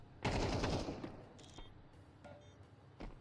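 Rapid AK rifle burst in Counter-Strike 2 during a college esports match, loud and close at the start, then fading into fainter scattered shots and clicks.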